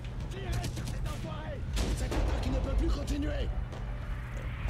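A sniper rifle fires in the WWII shooter Enemy Front, set in the Warsaw resistance. A sharp close shot lands mid-clip within steady battle ambience, and someone talks over it.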